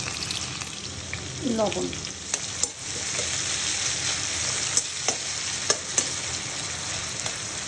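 Onion, garlic and green chili frying in oil with a steady close sizzle, sharp clicks of a utensil against the pan, and a brief spoken word partway through.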